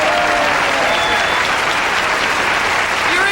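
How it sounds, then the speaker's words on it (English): A studio audience at the 1991 Carol Burnett 25th anniversary television special breaks into dense, steady applause that stays loud and even throughout, with no talking over it. "Please, a big round of applause for Bob Mackey."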